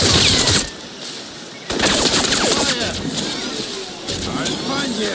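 Sustained automatic gunfire rattles through a firefight in the game Crysis Remastered, loud and dense with brief lulls, mixed with mechanical clatter and a shouted voice.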